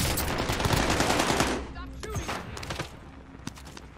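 Rapid bursts of pistol gunfire in the Warzone video game, loud and dense at first and then thinning into scattered shots, with players' voices talking over the fight.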